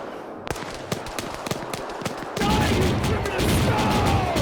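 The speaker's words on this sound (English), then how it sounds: "Now they're on the auto cannon now." Autocannon fire in the military video game Arma 3, a rapid burst of sharp booming shots followed by a dense roaring barrage, loud and close.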